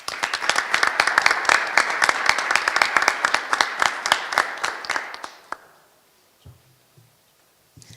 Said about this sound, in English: Let's give our wonderful panelists another round of applause.